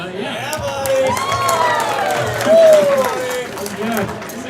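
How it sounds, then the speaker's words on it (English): A crowd at a fan convention in Salt Lake City cheers and whoops in a large hall, with rising calls and scattered clapping under a moderately loud, continuous din. "this is a great crowd."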